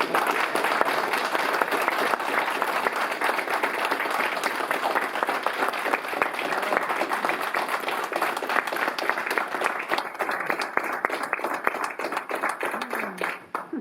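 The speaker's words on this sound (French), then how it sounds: "C'était pour toi, tous ces applaudissements" A crowd at an art exhibition event gives sustained, steady applause, many hands clapping densely and evenly for a long stretch, with faint voices mixed in near the end.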